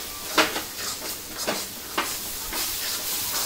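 Spice paste with green chilli and a little water sizzles and fries in a pan for a Bengali chicken dish, with steady hissing broken by several sharp stirring scrapes and spatters, close and fairly loud, with no voices.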